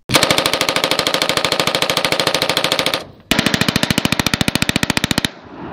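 Automatic gunfire from assault rifles recorded in the Nevada desert, two long rapid bursts of sharp, evenly spaced shots, very loud and close, separated by a brief gap and ending in a decaying echo.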